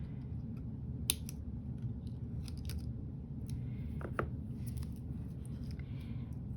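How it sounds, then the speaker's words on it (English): Scissors snip paper trimmed for a handmade Valentine card, a few crisp close cuts over a low steady background hum, with no talking. "I do need to give a little trim."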